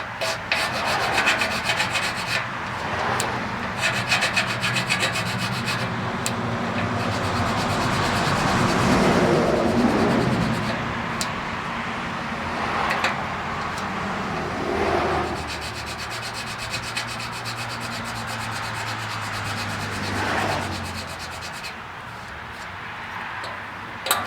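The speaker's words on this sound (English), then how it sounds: "Princess Auto diamond file." Steady rasping strokes of a Princess Auto diamond file working weld spatter off metal on a Powerfist 15 hp 420cc gas wood chipper, a continuous close scraping that swells and eases over a long stretch.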